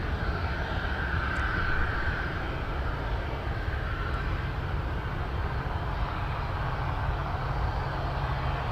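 A distant FedEx 777 cargo jet rumbles steadily at Anchorage airport, a low, even drone with faint whine that holds constant throughout.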